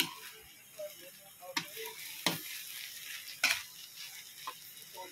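Shrimp stirred in a hot pan, a soft continuous sizzle broken by several sharp scraping stirs of the utensil, close and fairly quiet, with no speech.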